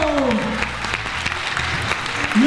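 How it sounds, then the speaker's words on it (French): A live audience at a neighbourhood event claps in a brisk, even burst of applause, fairly loud and close, with a short cheer or call rising over it near the start and end. "applaudit là. Bravo."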